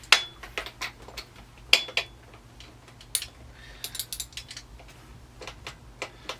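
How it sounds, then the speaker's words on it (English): A ratchet wrench with an extension clicks in quick close bursts while loosening a motorcycle spark plug in a tight spot, with a few metallic clanks between the ratcheting runs and no talk. "So I've got my wrench and extension, and I'm going to make sure it's set the right way."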